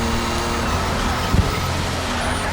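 A 1987 Porsche 962C race car in a racing video game, its engine a loud, continuous roar under steady throttle, with a brief bump near the middle.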